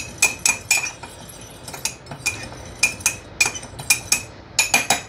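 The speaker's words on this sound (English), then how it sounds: "I'm just going to mix it with a fork" A metal fork stirs ginger and garlic in oil inside a bowl, making repeated bright clinks and scrapes against the dish in an uneven rhythm, close and clear with no talking.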